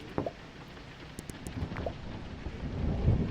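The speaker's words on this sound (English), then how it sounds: "Raining cats and dogs." Heavy rain falls steadily outdoors, with low rumbles of thunder building and swelling toward the end; no one speaks.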